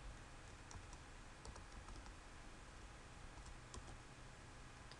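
Light, rapid clicking of keys on a computer keyboard while code is typed, faint and steady throughout against quiet room hiss, with no talking.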